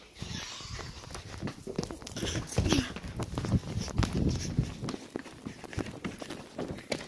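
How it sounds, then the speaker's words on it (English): Footsteps patter in a video game as a run of soft, quick treads under steady talk and other game noise. "I hear footsteps."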